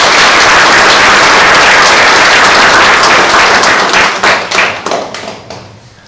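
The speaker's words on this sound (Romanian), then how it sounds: "Haideți să-l aplaudăm și să spunem ceva." Loud, dense applause from the audience at the Mihai Eminescu festival in a Suceava village, sustained for about four seconds, then thinning into separate claps as it dies away.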